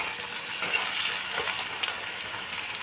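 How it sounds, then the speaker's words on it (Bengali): Chopped onion and green chili fry over low heat in a pan, a soft continuous sizzle with faint stirring scrapes, close and without speech. "পেঁয়াজ আর কাঁচা লঙ্কা কুচিয়ে দিয়ে দিলাম।"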